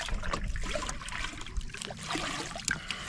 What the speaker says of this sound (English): Let's go ahead and fill it with some water.